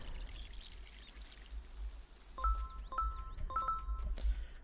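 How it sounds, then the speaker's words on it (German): Watering a plant in the video game My Sims: a soft pouring sound followed by a run of bright, chiming game jingles in several quick bursts, with no talking. "Gut, dann jetzt hier rüber und gießen wir den ebenfalls."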